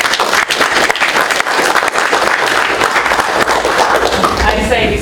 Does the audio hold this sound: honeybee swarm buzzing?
no